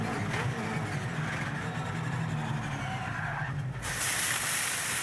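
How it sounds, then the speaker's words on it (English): A Brad Jones Racing touring car brakes hard with its rear brakes locking, and the tyres skid in a long rough scrub under a droning engine. An on-board recording, loud and continuous, rising in hiss near the end. "There was a bit of rear brake locking going on there"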